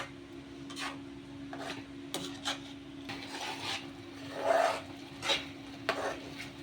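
A spoon scrapes and rubs slowly through grated egg kheema curry in a pan, about eight soft, unhurried strokes close by over a faint steady hum, with no talking.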